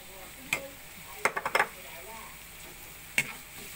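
Frozen hotdog sautéing in a pan for spaghetti sauce: a faint sizzle beneath a few sharp clinks and scrapes of a utensil against the pan, clustered in quick taps then one more later.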